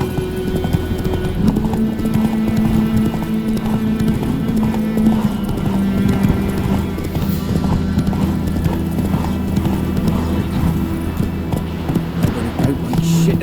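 Hooves clip-clop steadily as a horse gallops through The Witcher 3, a rapid continuous rhythm close by, with an occasional whinny and faint game ambience beneath.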